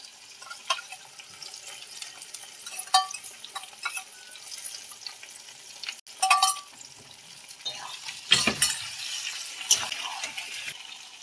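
Potatoes and ginger cumin paste fry in hot oil with a steady sizzle, broken by several louder stirring scrapes and clatters from the pan, heard close.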